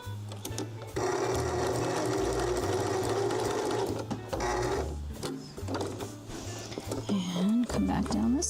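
A sewing machine backstitches in steady runs, pausing and restarting between bursts, with a voice talking over the whirring motor.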